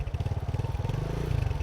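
A motorcycle rides through the streets of Kigali, its engine giving a steady, pulsing throb close by, with faint clatter and road noise and no talking.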